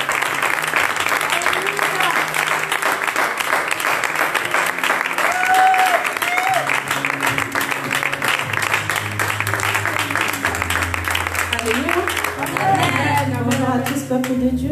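A church congregation claps loudly and steadily in encouragement of the pastor. The applause is sustained and fills the room, with voices murmuring and calling out underneath.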